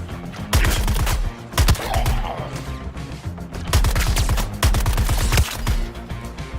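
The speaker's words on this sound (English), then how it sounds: "You should be shooting where I'm going to be instead of where I was." Gunfire in a video game, loud rapid bursts of automatic fire repeating in clusters with brief gaps, close and dense throughout.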